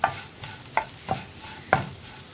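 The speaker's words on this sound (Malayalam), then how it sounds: "ക്യാപ്സിക്കവും കൂടി ചേർത്ത് നന്നായിട്ട് ഇളക്കി മിക്സ് ചെയ്യുക." Capsicum being stirred into a lentil (parippu) usli in a pan: four or five distinct scraping stirs at an irregular rhythm, close and moderately loud, over a soft background sizzle with no talking.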